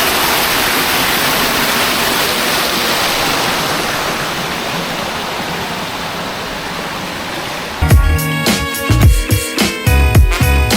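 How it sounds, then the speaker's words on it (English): A steady, loud rush of falling water from a resort waterfall in Cancun fills the scene, a broad constant roar; near the end, sharp clattering bumps break in over it. "there's like loads of these like waterfalls scattered around"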